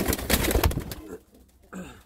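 A female pigeon that cannot fly gives a short, low coo after a burst of fluttering and rustling, close and moderately loud.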